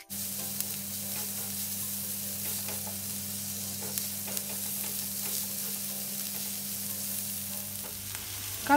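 Garlic and shallots sauté in a little leftover oil, giving a steady, close sizzle over a low hum, with occasional soft clicks of stirring throughout.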